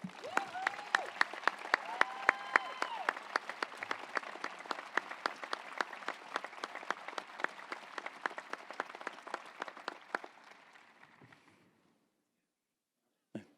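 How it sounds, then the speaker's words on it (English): Audience applause at an outdoor university healing garden dedication, a dense patter of many hands clapping that gradually thins and fades out, with a brief voice near the start. "let's give them one more round of applause"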